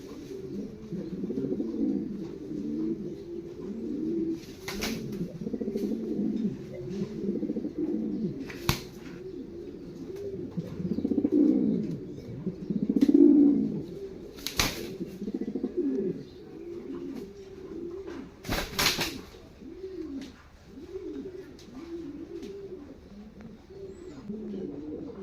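A four-month-old stencil Lahore pigeon coos in a soft, repeated rolling rhythm up close, with a few sharp clicks or taps standing out now and then against quiet surroundings.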